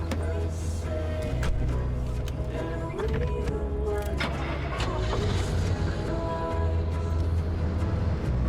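A battered car's engine cranks and runs in the game Pacific Drive, a low, steady rumble with rattles and clanks over it, fairly close, with a voice speaking briefly.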